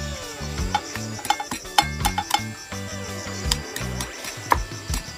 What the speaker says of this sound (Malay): Okey, kita tumbuk sikit bawang.